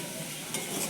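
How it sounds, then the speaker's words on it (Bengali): Steady close sizzle of food frying in a pan while it is stirred for a simple home dinner of rice and dal, a brief scrape of the utensil midway, continuous and unbroken, no voices. "নেড়ে নিচ্ছি।"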